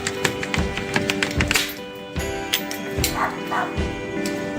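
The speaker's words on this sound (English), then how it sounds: "the neighbor's dog is barking at me like crazy" A neighbor's dog barks excitedly outdoors near a shed, with repeated sharp barks and yips mixed with whimpers and tapping sounds, at moderate distance and fairly loud.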